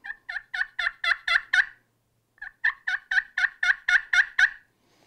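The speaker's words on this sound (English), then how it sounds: "I like to use a slate call" Two quick runs of sharp, high turkey yelps drawn from a Thunder Ridge series zinc slate call, about seven evenly spaced notes each, rising in loudness, separated by a short pause, close and clear with no talk.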